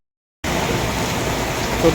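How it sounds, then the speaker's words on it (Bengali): Heavy rain pours down over a gas line repair site in Chauddagram, starting abruptly after a short silence as a loud, dense, unbroken hiss of falling water close by. "এই বৃষ্টিটা গ্যাস ট্যানের কাজটা আসলে করতে দিচ্ছে না"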